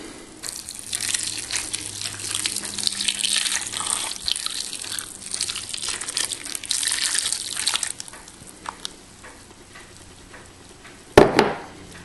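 A snack stick mixture pours in a steady, continuous stream for several seconds, then tapers off, ending with a sharp knock.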